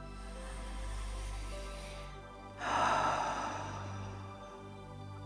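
A single slow, deliberate breath is drawn audibly about halfway through, a soft airy swell lasting roughly a second. It sits over a steady low hum of background music and is close and fairly quiet.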